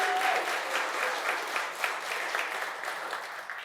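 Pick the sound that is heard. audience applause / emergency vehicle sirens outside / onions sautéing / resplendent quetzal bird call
audience applause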